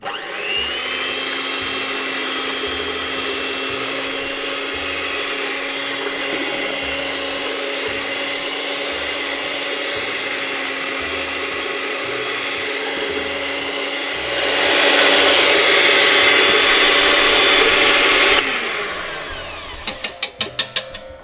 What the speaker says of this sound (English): Then you're going to want it on the mixer on low.